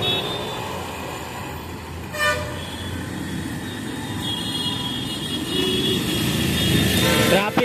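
Busy city traffic near Ellis Bridge in Ahmedabad at an open signal, a constant hum of engines with scattered horn toots, including a sharp honk early on and more toots near the end, with faint voices in the mix.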